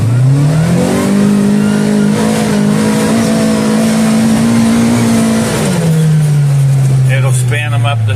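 A Kawasaki Crew UTV on 35-inch tires with a clutch spring kit and tune climbs a steep hill, its engine droning loud and steady at high revs before dropping off as it slows.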